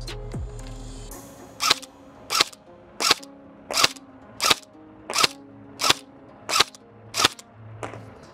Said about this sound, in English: the actual action of the BB firing feels a little bit sluggish, which is to be expected from a gun right out of the box